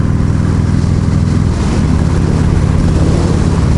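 A Harley-Davidson motorcycle fitted with a Hammer Performance 1275 big-bore kit on a winter road ride, its engine droning loud and steady under heavy wind rush with a slight shift in pitch midway.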